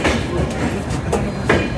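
Inside the Ahmedabad Express passenger train (no. 19484) running through dense fog, a loud steady rumble with a rhythmic clickety-clack of wheels over rail joints repeating every half second or so.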